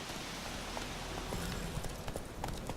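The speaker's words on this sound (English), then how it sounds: "Go, Roach, go" Horse hooves clip-clop at a quick, even pace in The Witcher 3, faint and steady against a soft game background with no talk.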